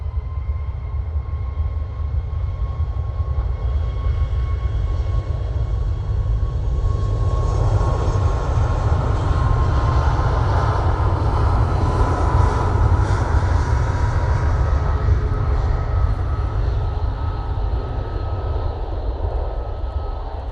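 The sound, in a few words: Ryanair Boeing 737 MAX jet taking off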